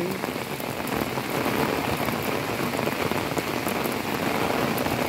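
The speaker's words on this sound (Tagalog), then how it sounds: "lumalakas ang ulan" Heavy rain pours steadily over a city road while someone walks home after a typhoon signal was lifted, a dense, loud hiss of drops on surfaces with no voices.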